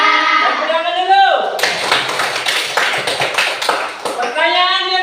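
A classroom of pupils claps together in a short burst of rhythmic hand clapping, with a voice heard before and after the applause.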